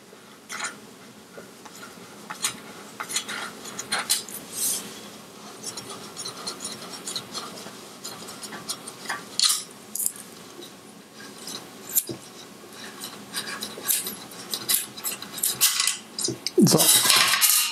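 Screws from a Fanatec ClubSport V3 sim-racing pedal being turned out by hand, with light metallic clinks, scrapes and rubbing taps scattered irregularly throughout, close and fairly quiet with no talking.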